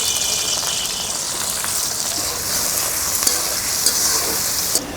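Green chillies and onions fry in hot oil for a village-style carp dish, a loud, close, bright hiss and sizzle that holds steady with small crackles and a slight easing near the end.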